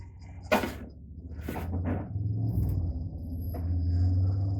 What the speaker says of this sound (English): Excuse the background noise. My workshop is on a very busy street corner.